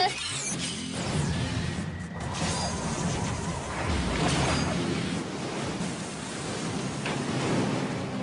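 Cartoon tsunami wave ability effect from a Bakugan anime battle, a loud, steady broadband rushing roar like crashing surf that surges and sustains for about eight seconds.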